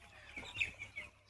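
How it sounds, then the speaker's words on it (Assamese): Eight-day-old broiler chicks on a poultry farm give a few quick, faint high cheeps in a short burst, close by in a quiet pen. "এয়া হৈছে 8 দিনৰ পোৱালি। আৰু দুটা সাইডতো আছে মোৰ ব্ৰইলাৰ পোৱালি।"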